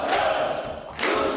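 A crowd cheering and shouting in a banquet hall as South Korean President Yoon Suk-yeol arrives at a People Power Party gathering, a brief dense burst of voices.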